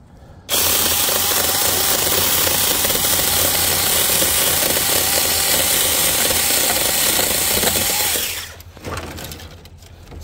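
A chainsaw cutting hard tree wood during professional tree trimming in Southern California roars loud and close for about eight seconds, then cuts off, leaving quieter rattling afterward.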